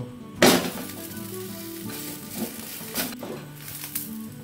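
An oats omelette frying in a home pan gives a steady soft sizzle, with a sharp clatter as it is flipped near the start and a few lighter utensil taps afterward.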